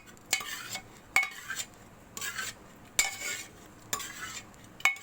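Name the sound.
mashing boiled chana dal in a pot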